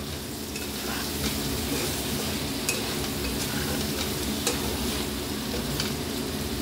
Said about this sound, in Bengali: একটু আলগা হাতে বেগুনগুলোকে একটু নাড়াচাড়া করে